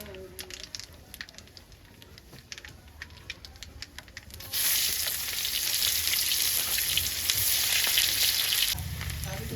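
Chopped onion fries in mustard oil with nigella seeds, a quiet crackle and scattered taps at first, then a loud, dense, steady sizzle up close that eases off near the end.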